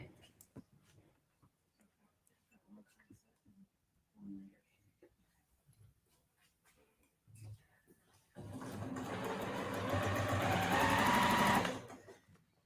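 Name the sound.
sewing machine stitching a quilt block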